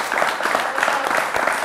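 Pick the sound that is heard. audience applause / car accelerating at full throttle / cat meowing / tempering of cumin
audience applause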